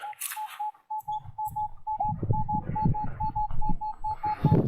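An Equinox 900 metal detector sweeps a Cossack settlement site, giving a steady series of short, evenly pulsed beeping signal tones that run through the whole stretch over rustling and scraping handling noise, with no talking.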